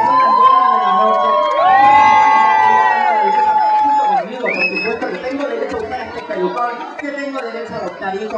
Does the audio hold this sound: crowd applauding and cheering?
yes